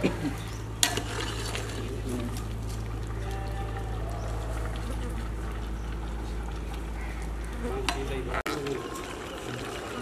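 Metal scraping and clinking of stirring mutton curry in a pot over a steady low hum, with a few sharp knocks against the rim.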